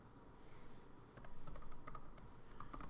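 Keys on a computer keyboard clatter in quick, uneven bursts, close and fairly quiet, with short pauses between runs of typing.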